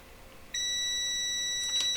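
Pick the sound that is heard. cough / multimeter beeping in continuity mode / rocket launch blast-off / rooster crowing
multimeter beeping in continuity mode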